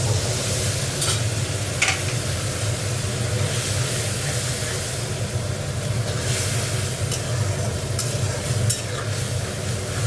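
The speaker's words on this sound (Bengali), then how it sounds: "গুঁড়ো মশলাতে একটু জল দিয়ে কষবো" Ground spice paste with a little water is sautéed in a pan, producing a constant low sizzle and bubbling, with occasional scrapes of stirring and no talk.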